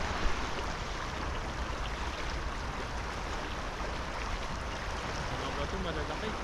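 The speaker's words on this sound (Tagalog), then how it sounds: "Lakas ang agos." A strong river current rushes in a broad, steady wash of water noise, close and continuous, with faint voices and motion mixed in.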